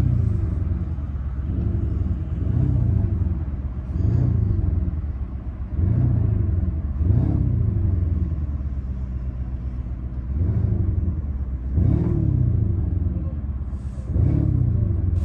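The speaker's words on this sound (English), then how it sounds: "Now we can give it a nice little rev." A 2024 Lamborghini Urus S with a loud exhaust revs repeatedly, deep rumbling blips rising and falling about every two seconds over a steady idle, heard up close with no talk.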